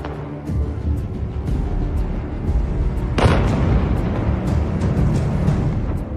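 A military factory erupts in an explosion after a strike: a loud sudden blast about three seconds in, rising out of a steady low rumble and dying into a sustained roar, with no voices.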